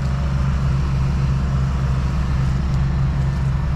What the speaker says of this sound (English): They got a portable construction generator running over here.